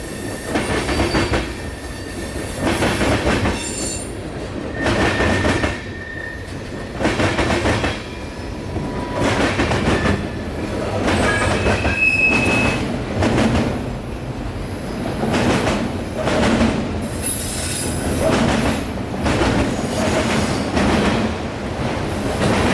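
A long freight train with Tropicana cars and auto racks rolls past at night, loud and steady, with rhythmic clickety-clack of wheels over rail joints and brief squeals of wheels.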